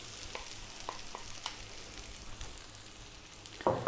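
Four beaten eggs sizzle and fry in a pan on below-medium heat, a soft continuous crackle with a few light clicks of a utensil and a louder scrape near the end.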